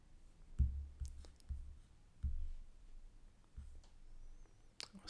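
Computer mouse clicks, about half a dozen soft, close taps spaced irregularly over a quiet room background while editing in a front-end page builder, with no voices.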